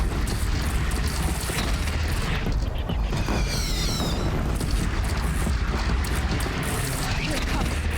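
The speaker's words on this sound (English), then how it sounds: "now we get to play with Where do you need me? Oseram cannons. On the platform. And we just start firing." Oseram cannons firing from a platform in Horizon Zero Dawn, dense continuous booming blasts and explosive rumble filling the scene, with whooshing projectile sweeps and voices talking over the barrage.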